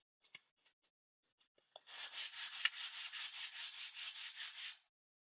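Sandpaper rubs burrs off a handmade wooden spoon in a quick run of about a dozen brisk, even strokes, close and alone, after a few light taps and handling sounds.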